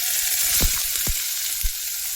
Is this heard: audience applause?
no